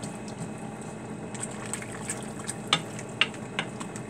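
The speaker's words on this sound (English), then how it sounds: "So I'm just going to let that boil." About 3 cups of water bubble and simmer quietly in a pot, with soft continuous gurgling and a few sharper pops.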